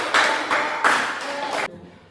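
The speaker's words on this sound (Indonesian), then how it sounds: "Nah, boleh dulu kasih tepuk tangan" An audience claps in a short burst that swells a few times, then stops abruptly after under two seconds.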